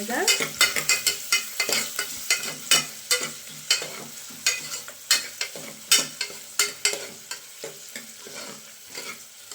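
Mung bean gravy stirred in a pan, a spoon scraping in quick, steady strokes, nearly twenty sharp clinks over a soft sizzle, close and clear with no talking.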